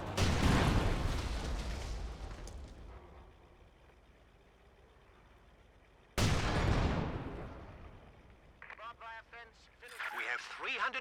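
Heavy booming blasts of gunfire and explosions in the World War II strategy game Company of Heroes 2, two loud impacts with rumbling decay, and someone speaks briefly near the end.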